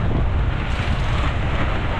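Strong wind roars and buffets the microphone in a constant low rumble, with no voices.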